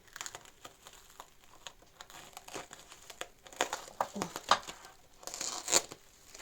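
Plastic wrapping on a prize parcel crinkles and tears close by in irregular bursts that grow busier toward the end, while a person speaks now and then.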